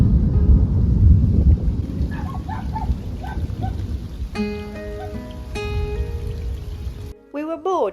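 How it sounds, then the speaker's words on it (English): A low, rolling rumble of thunder opens under a steady hiss of light rain, heard from a narrowboat moored on the Shropshire Union Canal; the rain continues as the rumble fades. "You can just hear the thunder and it's just starting to rain."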